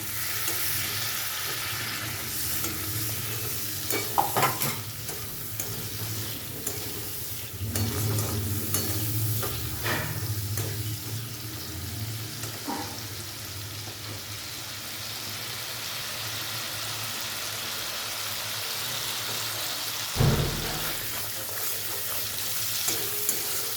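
Spiced masala with fried potatoes, cooked down with a splash of water for a Bengali rohu fish curry, is stirred in a pan. It makes a steady sizzle with repeated scraping strokes and a louder clatter near the end, and no one speaks.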